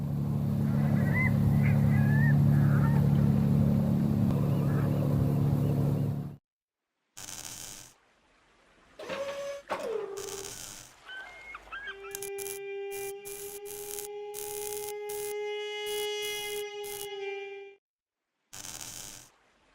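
Repeated honks from a large bird in the point-and-click adventure game The Journey Down, loud for the first six seconds, then broken sounds and sustained tonal game effects after a gap.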